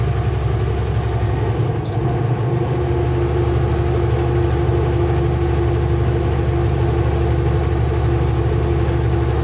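A heavy truck engine drones steadily and loudly throughout on a steep climb at about 32 km/h, a deep labored rumble with a constant low hum.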